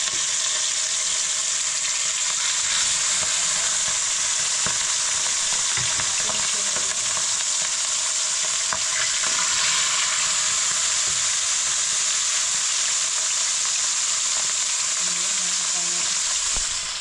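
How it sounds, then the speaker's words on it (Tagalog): Mackerel fries in a pan of hot oil with a steady, dense sizzle and crackle that carries on unbroken at close range, with a few faint clatters mixed in. "kaya magsimula na tayo magprito."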